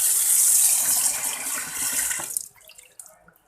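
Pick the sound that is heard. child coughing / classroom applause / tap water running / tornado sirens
tap water running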